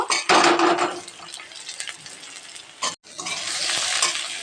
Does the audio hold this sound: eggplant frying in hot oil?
yes